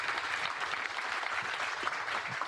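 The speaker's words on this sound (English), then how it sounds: "Once again, a big round of applause to all of them." A meetup audience at Lyft applauds its speakers, a brief, fairly quiet wash of steady clapping from a room of people heard from some distance.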